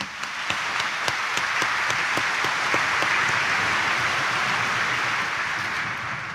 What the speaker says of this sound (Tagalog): pumalakpak nga ng mas malakas